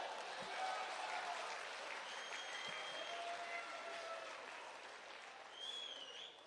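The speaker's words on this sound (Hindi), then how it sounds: "एक बार जोरदार तालियां।" Sustained, dense applause from an audience at a Hindi comedy poetry gathering, a steady roar of many hands clapping that holds level and eases slightly near the end, with faint whistles or voices mixed in.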